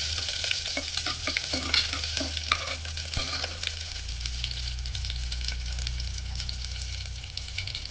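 Green chillies fry in hot oil in a pan with a steady, close sizzle and crackle, while a utensil stirs them with intermittent scraping taps.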